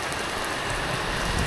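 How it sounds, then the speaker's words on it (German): Steady rain from a small thunderstorm patters across a surface in a dense, even hiss that holds at moderate loudness for the whole stretch, with no voices and no thunder standing out. "Jo, kleines Gewitter. Regen ist dabei."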